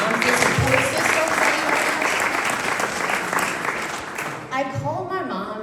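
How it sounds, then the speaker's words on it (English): A talk audience bursts into loud sustained applause, a thick wash of clapping for several seconds before a speaker's voice returns as it fades. "can we clap for the moms?"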